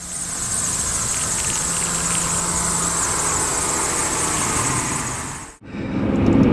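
A Lamborghini Murcielago engine accelerating hard in second gear on a road, a loud, sustained, strained roar that holds steady and then cuts off abruptly before resuming.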